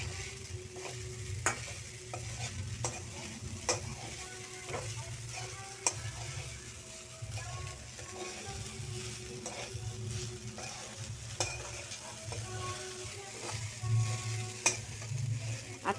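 Sabudana tapioca pearls sautéing in oil in a pan over a high gas flame, with a steady low sizzle under repeated light scraping and ticking strokes of a spoon against the pan, no talking.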